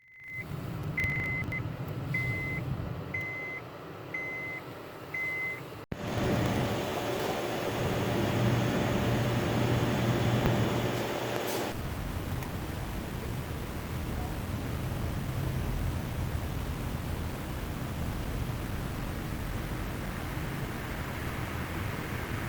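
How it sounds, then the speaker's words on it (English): An air conditioning unit running as a broad, steady whooshing hum that fills the clip at an even level, with some faint beeps early on and a change in tone partway through, no voices. "It's the sound of air conditioning"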